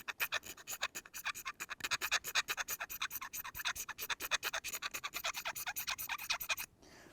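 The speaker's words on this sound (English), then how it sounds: "we got a bit of magnesium, and we're going to scrape that off with the back of the knife" The back of a knife scrapes a piece of magnesium to make shavings for fire starting, a fast run of sharp, rhythmic rasping strokes, close and distinct, ending abruptly.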